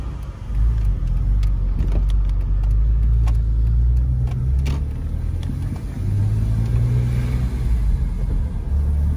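A BMW M3 E46 runs steadily with a loud, continuous low engine rumble and a metallic edge, swelling slightly as it revs, with no talk over it.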